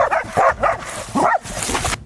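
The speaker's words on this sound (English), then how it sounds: "no longer afraid of barking dogs as they once were" Dogs bark in several sharp, close yips and woofs, spaced in short bursts, loud and clear over a quiet background.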